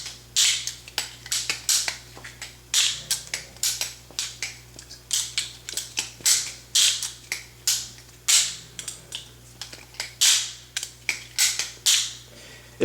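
An FHM balisong butterfly knife is flipped over and over, producing sharp, close metallic clacks in quick irregular bursts against a quiet background.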